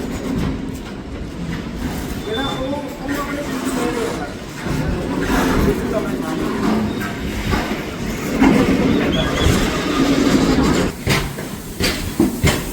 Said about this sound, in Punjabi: ਨੋਏ ਰੈਕ ਜਿਹੜਾ ਚੱਲ ਪਿਆ ਹੈਗਾ ਕੋਲੇ ਦਾ ਭਰਿਆ ਹੋਇਆ